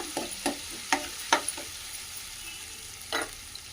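Ginger-garlic paste frying with potato curry in a pan, a soft steady sizzle punctuated by several sharp spoon scrapes and taps against the pan, no voices.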